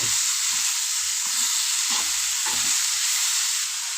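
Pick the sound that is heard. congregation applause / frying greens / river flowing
frying greens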